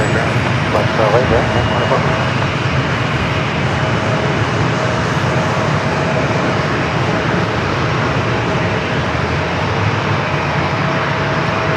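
Jet aircraft at San Diego International Airport produce a loud, continuous engine roar that stays close and steady from start to finish, with a faint voice briefly audible near the start.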